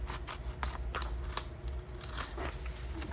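Little scissors snip through paper in a string of sharp, close cuts, uneven in rhythm, over a low steady background hum; no one speaks.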